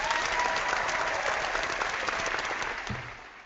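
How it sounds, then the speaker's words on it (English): A recorded audience claps steadily in a dense, even burst of applause that gradually fades out at the end. "It's amazing how similar our audience sounds every time they clap."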